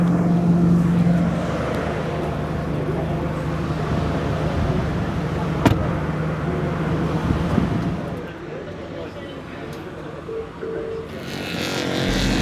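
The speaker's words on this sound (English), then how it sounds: "We're just waiting for these cars to finish before we're allowed on track." Cars lapping the track at Silverstone during an Aston Martin gathering, a steady engine drone with a passing surge midway that fades to a quieter idle-like hum near the end.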